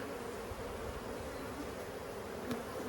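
Honey bees shaken from hive frames swarm in a dense, continuous buzz, close and steady throughout, with a single soft knock partway through and no voices.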